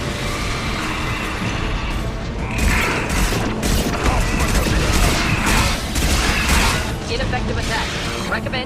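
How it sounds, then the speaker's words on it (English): Anti-ship batteries firing at a Collector vessel in the Mass Effect 2 video game, a dense, continuous barrage of mechanical clatter and booming blasts that swells in bursts over several seconds. "Firing anti-ship batteries at collector vessel."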